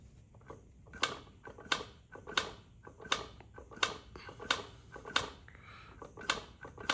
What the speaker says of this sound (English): you hear that clank? So something inside the motor ain't happy.